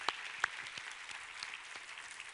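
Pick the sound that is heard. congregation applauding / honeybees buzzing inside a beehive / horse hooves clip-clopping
congregation applauding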